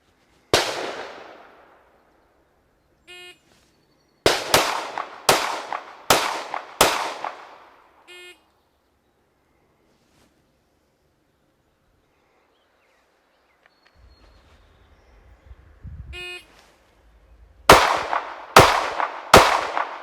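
Pistol shots from a Masada 9S and a Hellcat fired at a target in a CCW comparison: a string of five sharp cracks, then a lone shot, a quiet stretch with faint handling noise, and a final rapid string of three loud reports.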